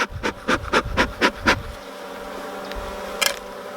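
Honey bees hum around an opened hive on a honey super frame, a steady droning buzz that runs under a series of about six rhythmic soft thumps at the start and one short sharp noise near the end.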